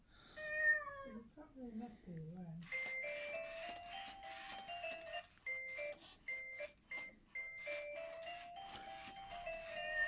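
Aldi Power Kitty Jr remote-control robot toy kitten giving a synthetic meow, followed by a run of electronic melodic beeps and chirps, fairly quiet in a room.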